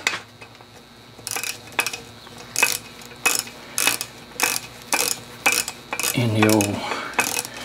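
Evinrude 15 HP outboard being cycled through its gear sequence, giving a string of evenly spaced mechanical clunks and ratcheting clicks, close and fairly loud, ending in a longer grinding whir with a faint word or two.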